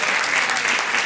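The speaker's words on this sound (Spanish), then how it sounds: "Pero hay alguien que no cambia, y ese es nuestro Dios, para quien te pido un aplauso." A church congregation applauding together, a dense, continuous wash of many hands clapping at once. It is loud and steady for a short stretch, with no clear voices standing out.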